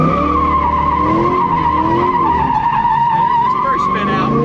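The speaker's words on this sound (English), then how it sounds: "There's this first spin out." A Corvette C5 Z06 drifting and spinning out, with loud continuous tire squeal and skidding over a steady roaring engine, sustained close up for the whole stretch.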